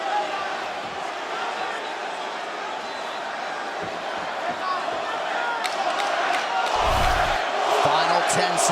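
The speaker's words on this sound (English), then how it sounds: "Now the crowd get behind Masvidal." A crowd at a UFC fight between Nate Diaz and Jorge Masvidal swells into a rising roar of cheering for Masvidal. A commentator talks over the noise, and a heavy thud lands near the end.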